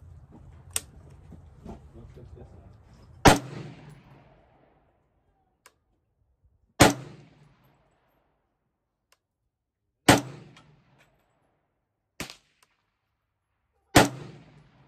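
An MK12-style rifle fires at an outdoor range, its sharp, loud shots cracking one at a time at irregular intervals of a few seconds. Each shot is followed by a short echoing decay, and faint low noise sits under the first few seconds.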